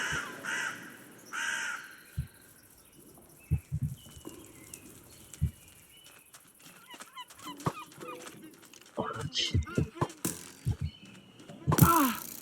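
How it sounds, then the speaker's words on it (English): Seagulls cry and squawk in a video game, scattered calls growing busier toward the end, mixed with clicks and thuds over quiet ambience. "Fucking seagulls."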